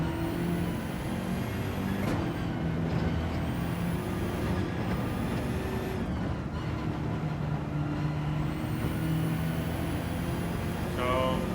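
In Gran Turismo 7, a race car brakes hard and downshifts to second gear for a slow double corner. Its loud, continuous engine note drops in steps with each gear change, with no talking over it.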